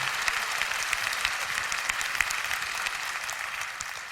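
A church audience applauds at a prayer gathering, with moderately loud, steady clapping and a few sharper individual claps standing out over several seconds.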